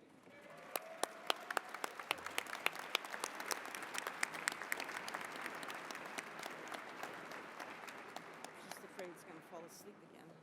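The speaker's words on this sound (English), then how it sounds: "Let's give them another round of applause." At a fall convocation ceremony, a large audience gives a round of applause for PhD degree recipients: sustained, even clapping with sharp individual claps standing out near the start, continuing for about ten seconds before slowly thinning.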